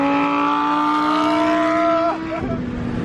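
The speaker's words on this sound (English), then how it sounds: "Ford F-150 Lightning versus Lamborghini Huracan Performante in 3, 2, 1, go!" A Ford F-150 Lightning electric pickup and a Lamborghini Huracan Performante drag race. A loud, steady tonal whine and roar holds for about two seconds, then drops sharply in pitch and eases off.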